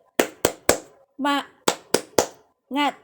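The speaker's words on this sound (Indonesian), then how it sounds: "Boleh kita bertepuk dulu" Schoolchildren clap in a classroom, three sharp claps, then a short shout, then three more claps and another shout, in a clear, close, repeated rhythm.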